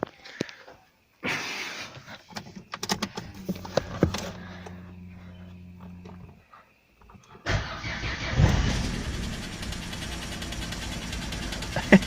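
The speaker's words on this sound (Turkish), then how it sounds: "Motoru yedik bu sefer. Dur bakalım bir daha çalıştıralım. Çalışacak mı?" A car with a damaged engine cranks in short stuttering bursts, then catches and runs roughly at a loud, steady idle with rattling, no talking.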